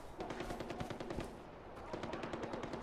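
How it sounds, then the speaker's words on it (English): Rapid automatic gunfire from the Far Cry 4 video game, a steady stream of closely spaced shots with a short lull midway before the bursts resume, fairly distant and moderately loud. "What is that guy shooting at?"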